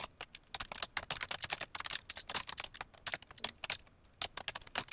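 Computer keyboard typing at close range: a steady stream of quick, crisp key clicks in uneven bursts with brief pauses, heard alone without speech.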